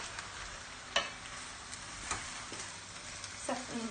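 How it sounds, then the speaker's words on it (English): Bacon with red and yellow peppers sizzles quietly in a pan for Spanish chicken, with a few distinct spoon scrapes as the pieces are stirred and separated. "I've now added the bacon and the red and yellow pepper. I'm just stirring that around for just a minute or two,"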